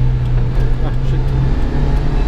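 Engine of a 1991 Subaru Sambar 2WD van in third gear through a U-turn, a steady low drone with a constant hum that stays loud and close for the whole stretch.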